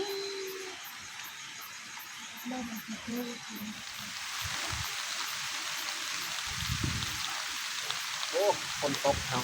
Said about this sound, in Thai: โอ้ฝนตกพี่น้องเอ้ย